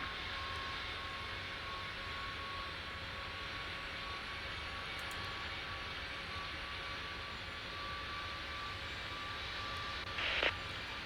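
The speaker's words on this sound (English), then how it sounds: "There's a plane right behind him as well, taking off." A steady airliner engine roar holds at an even, moderate level during an airport departure in the Amsterdam Schiphol control-tower simulation, with only a short brief click near the end.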